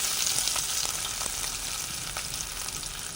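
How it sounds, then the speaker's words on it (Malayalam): Garlic sizzles in hot oil in a pan for a prawn curry, giving a steady, close, bright frying crackle with a few soft stirring scrapes, and no one speaking. "നമുക്കതിൽ വെല്ലുള്ളി ഇട്ട് കൊടുക്കാം."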